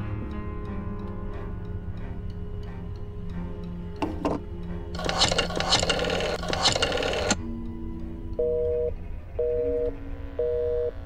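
Telephone in the video game Black Mirror II: a run of dial tones is tapped out over a steady background hum, a burst of noise follows, then a repeating busy signal pulses three times, clear and close.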